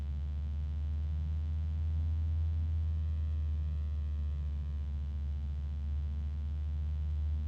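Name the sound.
faint harmonic resonance of cooling fan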